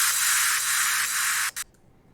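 Bright white-noise crash swells from an electronic dance remix wash steadily for about a second and a half, then cut off abruptly with a couple of short stuttered bursts before fading to near silence.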